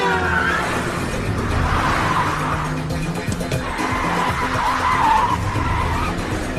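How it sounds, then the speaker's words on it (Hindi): A speeding car's tires squeal and skid in long, harsh, continuous bursts over a roaring engine, loud and close, during a chase scene on a road. "गाड़ी धीरे चलाइए सर, प्लीज गाड़ी धीरे चलाइए।"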